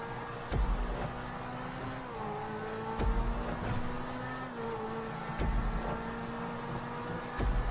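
A Grotti Cheetah sports car in the GTA video game speeds up through a turn, its loud continuous engine note climbing in pitch, punctuated by several sharp thumps or gear-shift bursts.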